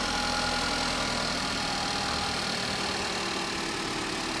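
A 2013 Chevy Malibu with a 2.5 liter engine idles smoothly at close range, a steady even hum with a faint mechanical whir and no revving, and no one talks over it.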